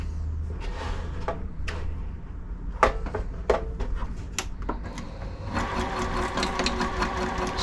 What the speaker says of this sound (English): Just lay down a little double stitch at the start, and then we're going to speed up a little. Make sure it feeds nicely.